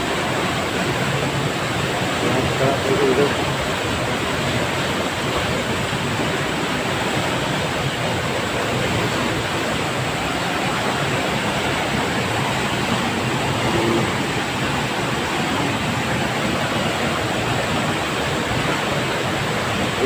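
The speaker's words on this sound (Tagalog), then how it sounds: "yung ilog po ay lalo pong lumakas" A flooded river surging with strong current after heavy rain, a dense, unbroken roar of rushing water heard close and loud throughout.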